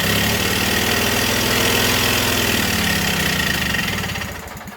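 A Coleman Powermate 7000 commercial generator with an 18 HP twin engine runs loud and close with a steady droning chug that drops away in the final moment.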